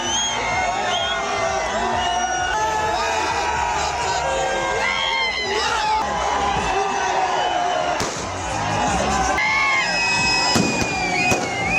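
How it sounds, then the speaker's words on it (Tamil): Fireworks set off by fans celebrating India's T20 World Cup win in Jammu and Kashmir pop and whistle continuously, with rising whistles and sharp bangs over a noisy outdoor crowd and voices. "பொதுமக்கள் பட்டாசுகள் வெடித்து கொண்டாடினர்"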